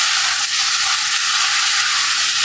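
Chicken frying in a pan with golden brown garlic, a loud, steady sizzle and hiss that runs unbroken throughout, close up with no voices.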